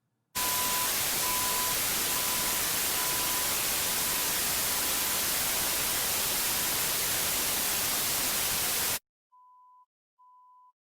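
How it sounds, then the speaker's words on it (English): A steady pulsed test tone beeps on and off under loud broadband hiss and fades gradually until the masking noise buries it. The noise then cuts out, and two short beeps sound clearly alone. "the level of the tone will be decreased incrementally until you can no longer hear it as it becomes fully masked by the noise"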